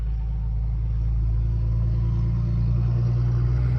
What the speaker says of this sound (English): there's been so many log trucks lately